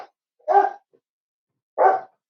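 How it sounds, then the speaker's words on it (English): A dog gives two loud, separate barks close by, roughly a second apart, with silence around them and no talking. "And the dog agrees."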